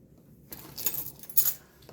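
Car keys jangle close by in cold weather, two short metallic bursts rattling against a quiet background.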